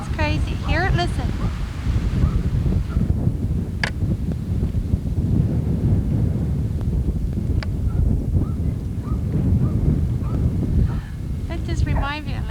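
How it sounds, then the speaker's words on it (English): Strong blizzard wind buffets the microphone outdoors in continuous loud gusty rushing, with brief dog-like yelps near the start and end and occasional sharp knocks. "Look how windy it is. It's just so windy."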